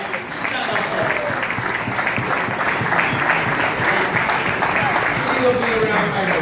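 An audience in Guyana gives a sustained round of applause for President Bharrat Jagdeo, a dense, steady wash of clapping with some crowd voices mixed in throughout.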